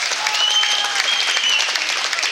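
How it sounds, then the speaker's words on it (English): Crowd applause at an outdoor child-protection rally, steady dense clapping sustained throughout at moderate level with no talk over it. "Applause for Freda Briggs."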